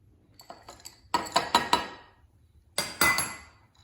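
A spoon clinks and taps sharply against a cup while stirring chocolate chip cookie batter, coming in quick clustered bursts of three or four hits separated by brief quiet, heard close up.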